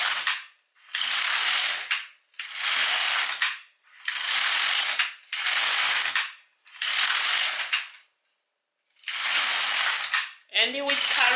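An LK150 knitting machine carriage pushed back and forth across rows of waste yarn, giving six loud, evenly spaced ratcheting passes, each about a second long with short pauses between, then a brief voice at the end.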